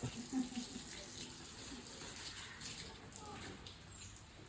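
Water runs steadily from a tap while someone's hair is washed, a faint, continuous splashing hiss with a few louder spatters near the start.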